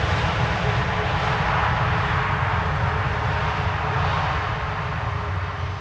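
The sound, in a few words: Delta A330neo airliner at Schiphol Airport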